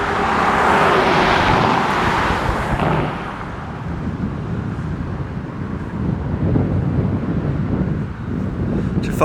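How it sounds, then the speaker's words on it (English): Strong wind roars and buffets the microphone throughout, a constant rumbling gust that eases slightly midway and then picks back up. "it was stormy and windy the morning we filmed there"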